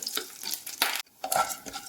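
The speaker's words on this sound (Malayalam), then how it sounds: "വെളിച്ചെണ്ണ ഒഴിച്ച് അതിൽ ഈ നാല് മുളകും വറുത്തെടുക്കുകയാണ്" Close, crackling sizzle of four chilies frying in coconut oil, with bursts of spattering and stirring scrapes and a brief pause in the middle.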